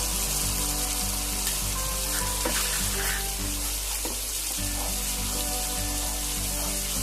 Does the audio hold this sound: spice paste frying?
yes